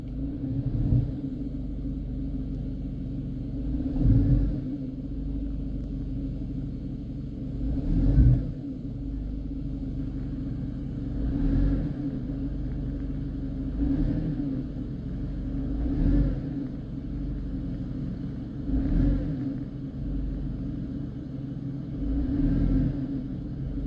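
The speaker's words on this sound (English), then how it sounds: "I'm going to put it in drive now, and I'm going to give it gas" A 2004 Mercedes C230 W203 with the 1.8 engine, held on the brake in drive, revs up repeatedly in a low, steady rumble, with about six swelling pushes of throttle over the idle.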